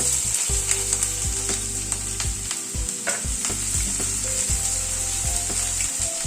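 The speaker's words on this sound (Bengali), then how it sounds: "পেঁয়াজটাকে একটু হালকা করে ভেজে নিচ্ছি" Chopped onion fries in oil with cloves and tempering spices, giving a loud, constant close sizzle broken by frequent stirring clanks and scrapes of a spatula against the pan, with no voices.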